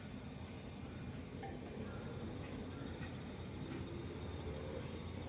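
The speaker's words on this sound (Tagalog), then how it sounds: "Tsaka may train. Ayun naman ang train." Train passing by a river bank, a steady faint distant rumble of rail cars rolling continuously, no talking.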